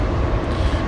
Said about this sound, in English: I'm sorry, a train's about to come by.